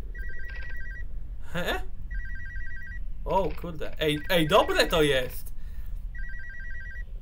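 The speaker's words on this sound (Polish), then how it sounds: "To jakiś telefon. Ale o tej porze?" An old-style telephone rings in bursts of trilling electronic tones in the horror video game ALONE, three rings spaced about two seconds apart, with someone talking excitedly between them.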